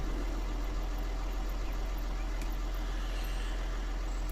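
A tractor engine idling in Farming Simulator 19 with a Dammann Profi Class 7500 sprayer attached, a steady low droning rumble that runs evenly throughout with no voices.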